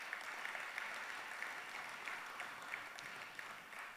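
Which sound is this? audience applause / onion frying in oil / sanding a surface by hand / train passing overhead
audience applause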